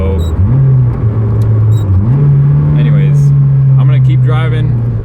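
A Toyota AE86 hums steadily from the cabin at a constant, loud drone, its engine pitch stepping up slightly partway through, with a voice talking over it.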